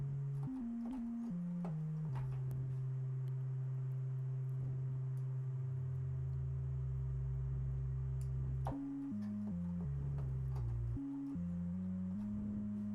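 Two synthesized bass layers, a deep sub and a mid layer, play together as a sustained bass line with shifting sliding notes and steady loud tone, no talking.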